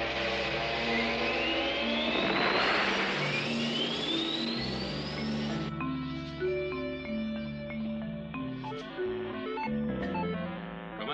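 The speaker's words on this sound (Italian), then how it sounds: "Accendere i motori!" Cartoon spacecraft engines start up and run, with rising whistling sweeps climbing in pitch over a deep humming roar, then settling into a steady layered electronic drone with faint beeps.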